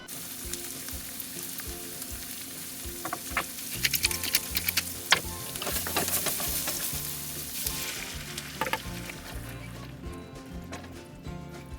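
Ratatouille vegetables with crushed tomato sauce sizzle and fry steadily in a pan, a dense continuous crackle with occasional stirring clatter and sharper pops, close and fairly loud throughout, with no talking.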